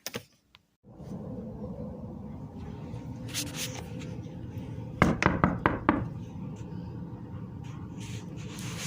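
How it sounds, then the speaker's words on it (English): Knocking on a door at home, a quick cluster of about five sharp raps near the middle over steady low background noise, with a few fainter taps around it. "Somebody's knocking on the door, Mommy. Did you hear that? Is somebody knocking?"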